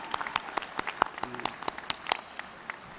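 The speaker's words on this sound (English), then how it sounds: "the graduates are the ones who are applauding the loudest" Graduates and audience at a university commencement ceremony applauding, scattered distinct handclaps heard at moderate distance in an irregular patter, fairly quiet, with a brief voice passing through.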